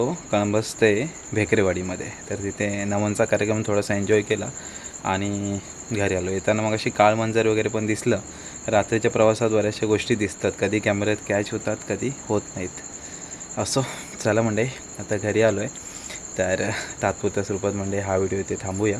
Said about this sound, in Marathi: रातकिड्यांचा आवाज येतो मस्त.